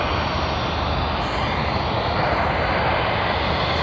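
Jetstar flight JQ501, a Sydney to Melbourne airliner, roars loudly and close at Sydney Airport, its engines a thick steady rumble with hiss over the whole short stretch.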